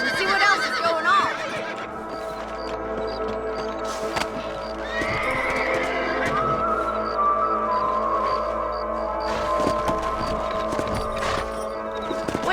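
Horses whinny and snort over rhythmic hoofbeats in the video game Red Dead Redemption, with a soft music bed underneath and a brief spoken line.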